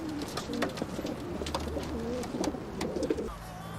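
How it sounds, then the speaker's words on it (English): Several pigeons coo steadily in soft, repeated throaty phrases, close by, over a low background hum with faint clicks and no clear speech. "I'm looking after Jack's pigeons"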